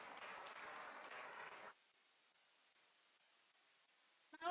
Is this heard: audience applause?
yes